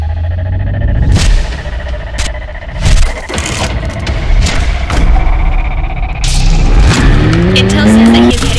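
A McLaren is driven in a video game, with loud engine revs, rising gear-change whines and sharp tire squeals, along with game sound effects and other noises.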